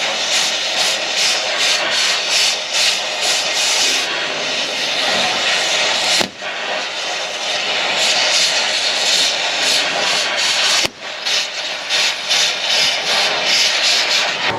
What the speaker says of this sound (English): we have access to get the torch in there. I'm gonna cut that bolt off, and we should be free